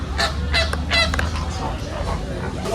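A heron-like bird at Alexandria Zoo gives several harsh, honking calls in quick succession, fairly close, over a low background rumble.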